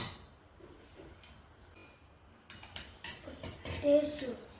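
Beetroot salad being mixed in a bowl, with spoon and utensil clinks and scrapes starting quietly, then growing busier and louder in the second half, with a voice speaking briefly.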